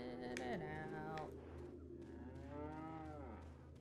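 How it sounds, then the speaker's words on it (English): Cows in the Resident Evil 4 video game let out two long, drawn-out moos, one near the start and another later, loud and close over a low steady background. "Are you telling me these cows aren't even fenced in?"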